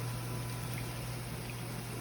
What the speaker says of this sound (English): we're gonna let the plantains fry a little bit on one side